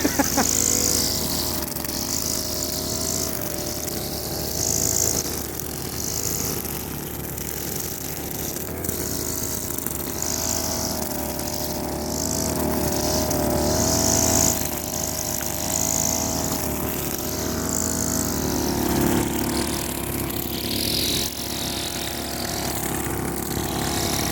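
A motorcycle engine runs steadily throughout at an apple farm, a continuous droning hum with slight rises and dips. Some faint voice-like sounds sit under it.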